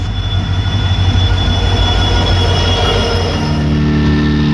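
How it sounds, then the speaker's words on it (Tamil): A train rolls in at a railway station near Rameswaram, a steady loud rumble of wheels on rails with a faint high tonal squeal, continuous and close throughout with no voices. "ட்ரெயின் வந்துருச்சு."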